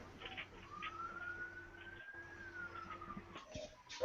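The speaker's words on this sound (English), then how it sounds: "I hear sirens in the background" A siren wails in the background, a faint, distant rising tone with a low steady hum underneath and a brief louder burst near the end.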